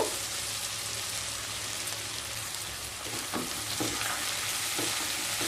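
Papaya with ginger paste sautés over low heat in a pan, a steady close sizzle with occasional stirring scrapes and soft clicks.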